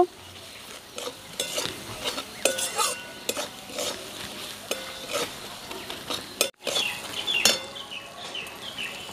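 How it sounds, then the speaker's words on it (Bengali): A spoon stirs and scrapes chicken gizzard and liver with salt, turmeric and Kashmiri chili powder in a pan, giving steady clinking strokes over a faint sizzle, with no talking. "স্বাদ মতো নুন, 1 চামচ হলুদ গুঁড়ো, 1 চামচ কাশ্মীরি লঙ্কার গুঁড়ো, আবার একটু ভালো করে কষিয়ে নেব।"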